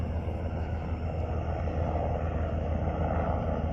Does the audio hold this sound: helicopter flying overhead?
yes